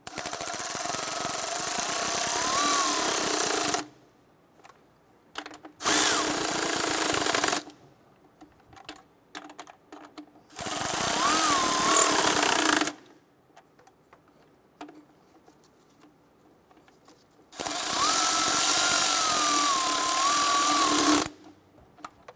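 Intake manifold bolts being run down on a 2008–2012 Honda Accord: four bursts of a close, loud, buzzing power tool, each lasting a few seconds, separated by quiet gaps with light clicks and handling noises.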